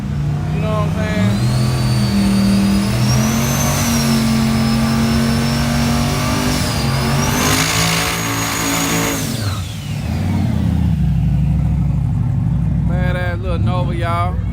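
A Chevrolet Nova street drag car with its engine revving loudly and close, rising and holding, then easing off before revving again, while people talk under the engine noise.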